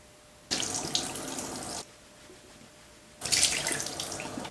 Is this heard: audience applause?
no